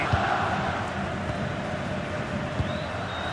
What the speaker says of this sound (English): The crowd certainly think so. Just listen to them.